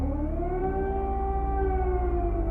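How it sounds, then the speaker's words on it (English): Air raid sirens wail over Kyiv, one sustained, slightly wavering civil-defense tone that holds steady and loud throughout with no talk. "the sound of missile strikes and air sirens"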